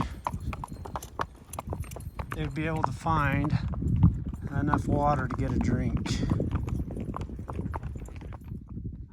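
Horse hooves clip-clop steadily on rock in an even walking rhythm, close by, while someone talks over them.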